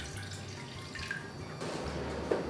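Water runs from a tap or jug into a pan for syrup set over medium heat, a steady close pouring and trickling with faint drips.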